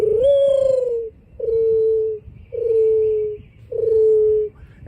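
A voice imitates a mourning dove, giving four drawn-out, hollow coos in a steady, evenly spaced series, close and clear with no other sounds.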